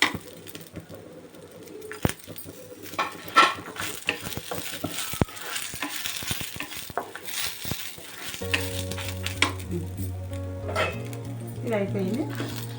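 Spices sizzle and crackle in a hot pan while being stirred for a mutton curry masala. Irregular scraping and popping under voices, with a dog barking and a sustained electronic tone toward the end.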